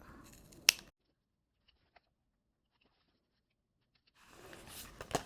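A single sharp scissor snip sounds up close, followed by near silence, then the rustle and crunch of more cutting through fabric and clear vinyl at the end.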